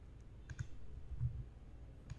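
A computer mouse button right-clicked on a desktop, giving a few faint, short clicks near the mic against a quiet background hum.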